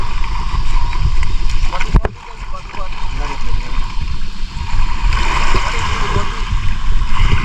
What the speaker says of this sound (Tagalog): Ayun makina, oh.